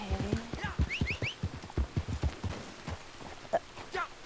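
Horse hooves clip-clop in Red Dead Online, a steady run of close, distinct hoof strikes with occasional louder thuds, while a horse snorts or whinnies briefly and voices talk over parts of it.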